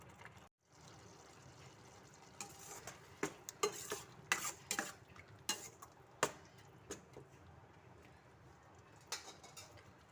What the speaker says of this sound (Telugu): కర్రీని మధ్య మధ్యలో కలుపుకుంటూ ఒక ఐదు నుంచి పది నిమిషాల వరకు ఇలా మగ్గించుకోవాలండి